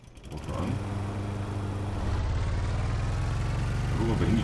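Boat motor in Stranded Deep running steadily from start to end, a continuous low droning hum with a humming engine tone that stays loud and even after a brief start-up.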